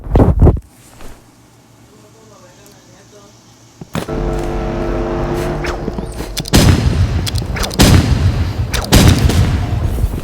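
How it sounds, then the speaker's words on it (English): Rocket launcher fire in a shooting video game, loud booming blasts and rumbling explosions after a quieter stretch, with layered gunfire and chaotic battle noise and a player's voice talking over it. "Rocket launcher."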